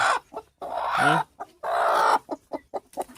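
Several hens clucking close by in a backyard coop, a run of short irregular bursts with a couple of longer drawn-out calls in between, no talking.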